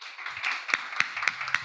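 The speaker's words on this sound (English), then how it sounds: "a big round of applause to Vineet Bafna for actually organizing this" A few people clap at an academic symposium held over Zoom, sparse and evenly spaced claps at moderate distance, with a faint background hiss and no voices.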